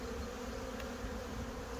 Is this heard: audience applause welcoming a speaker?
no